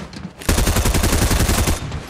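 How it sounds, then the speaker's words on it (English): Rapid SMG gunfire in a Fortnite Creative one-on-one match: a dense, steady burst of shots lasting over a second, loud and close, with no talk over it. "Rudy, I have an SMG."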